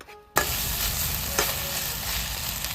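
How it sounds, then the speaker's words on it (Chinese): Chili peppers and eggs stir-fried in a small electric pot at a highway service area: after a brief silent moment, a loud, steady sizzle starts and keeps going, with a spatula scraping and clinking now and then. "我们的第一道菜啊，辣椒炒鸡蛋"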